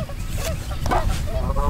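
Geese honk in short nasal calls, several close and fairly loud, over a rumbling background.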